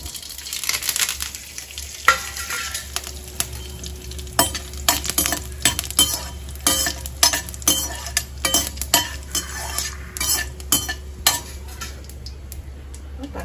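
Cumin seeds, two dried red chilies and curry leaves sizzle steadily in hot oil, with a constant frying hiss broken by frequent sharp clinks and scrapes of a utensil stirring in the pan.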